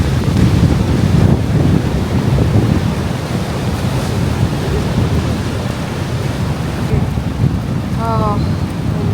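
Heavy surf washes continuously at Diamond Beach in Iceland among icebergs in freezing weather, a loud close roar buffeted by strong wind across the microphone, with a brief faint chirp near the end.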